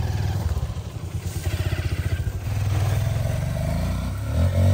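A motorcycle engine on a rural mountain track in Ha Giang, Vietnam, revving and pulling under load with a pulsing, rattling rhythm that swells toward the end, close and fairly loud, with no talk.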